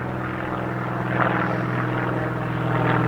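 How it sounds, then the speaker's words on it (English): A propeller airplane passes overhead beside the Union Canal, its steady droning hum constant and moderately loud throughout, swelling slightly toward the end, with no talking. "it's got a plane flying overhead."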